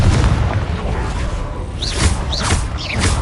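Blasting spell explosions cast in Hogwarts Legacy, a dense rumbling boom with a few sharp whooshing effects near the end, loud and continuous with no speech.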